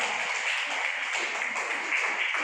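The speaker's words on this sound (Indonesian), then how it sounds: "tepuk tangan dulu kalian" A group at a coaching session claps together, a steady, even wash of applause that holds at one level from start to finish with no voices over it.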